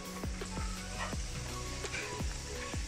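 Ground spice masala for Delhi chicken nihari sizzles hard in a hot pan, a loud continuous crackle with occasional scraping stirs.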